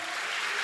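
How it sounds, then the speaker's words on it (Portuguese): Congregation applauding during a church service, a dense, even burst of clapping filling the room for a brief moment. "Você pode aplaudir ao Senhor?"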